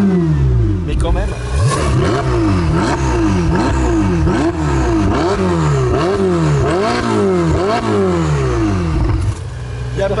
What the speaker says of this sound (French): un V8 Ferrari, c'est sympa